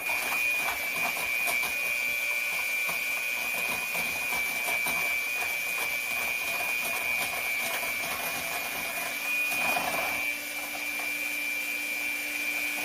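An electric mixer whirs continuously at close range with a steady high whine, its pitch briefly shifting near the end as it keeps running in a kitchen.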